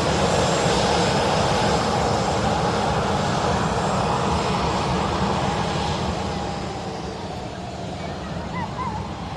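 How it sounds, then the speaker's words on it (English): A Boeing Dreamliner climbs out from Manchester Airport, its broad, steady jet roar loud and sustained, gradually easing in level toward the end. "Dreamliner climbs out"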